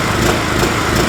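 An Einhell TC-PG 3500W portable petrol generator runs loud and close, its small engine droning with a rough, buzzy note that surges and dips slightly as it hunts for steady speed.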